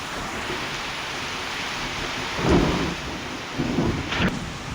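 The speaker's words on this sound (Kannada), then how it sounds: "ವಾಣಿಜ್ಯ ನಗರಿ ಹುಬ್ಬಳ್ಳಿಯಲ್ಲಿ ಸತತ 1 ಗಂಟೆಯಿಂದ ಕೂಡ ಧಾರಾಕಾರ ಮಳೆಯಾಗಿದ್ದು" Heavy rain keeps falling in Hubballi, a continuous hiss broken by two deeper rumbling swells of thunder in the second half.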